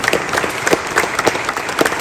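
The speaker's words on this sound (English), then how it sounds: "give these gentlemen a round of applause for giving their service" A crowd at a memorial mass breaks into brief, steady applause, with dense clapping from many hands close by and no speech over it.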